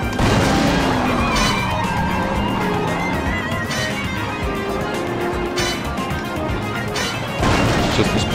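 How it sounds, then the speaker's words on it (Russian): A car smashes hard into something in the Starsky & Hutch driving game, a loud crash followed by grinding, scraping metal and a roaring engine that stays dense and loud throughout, with a second impact near the end. "Мощнейший удар, и они застряли"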